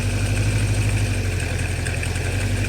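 A 1976 Honda CB550 motorcycle engine idling steadily, close and loud, a continuous low rumbling throb with no voices.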